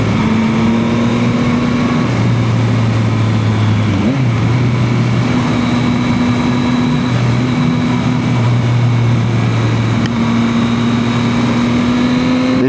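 Yamaha XSR 900 motorcycle engine while riding through twisties, a loud continuous drone with shifting engine tones rising and falling as revs change, mixed with heavy wind rush, no voice.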